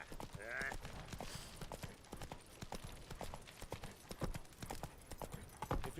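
Roach, a horse in the Witcher 3 video game, gallops with rapid, rhythmic hoof clip-clops over a soft ambient bed, with a brief whinny-like tone near the start.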